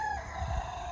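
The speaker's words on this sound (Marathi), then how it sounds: "ओ कोंबड्या वरटत आहेत." A rooster crows outdoors, one sustained cock-a-doodle-doo at moderate distance over a steady background of ambient noise, with no talk heard.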